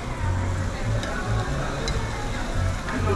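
Meat sizzling on a Korean BBQ grill at an all-you-can-eat restaurant, a steady close hiss of frying fat with soft crackles and a low hum of the room underneath.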